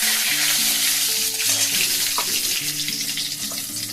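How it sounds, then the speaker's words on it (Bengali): Poppy seeds, nigella seeds, a dried red chilli and a bay leaf sizzle steadily in hot oil in a pan, a close, continuous crackle with no speech. "তেল গরম হয়ে গেছে, দিয়ে দিয়েছি একটু পোস্ত, একটু কালো জিরে, একটা শুকনো লঙ্কা, একটা তেজপাতা"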